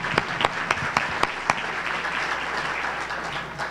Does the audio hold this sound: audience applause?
yes